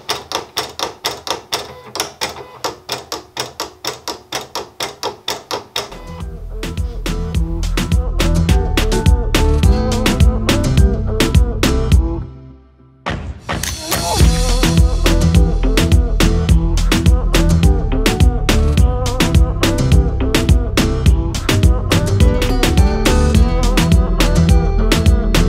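Silhouette Cameo cutting plotter cutting fabric, a rapid steady rattling stutter that grows louder and denser, pauses briefly midway, then resumes at full strength.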